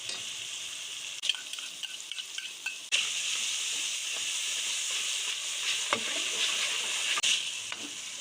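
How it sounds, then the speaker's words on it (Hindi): Tomatoes frying with ginger, garlic and dried coriander paste, giving a loud, continuous close sizzle with a few spoon clicks early on, after which the hiss swells and holds steady. "टमाटर को भी हमने अच्छी तरह से भून लिया है"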